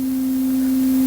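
A steady, pure synthesized sine wave tone holds at one pitch without change, clean and moderately loud, with no other sounds.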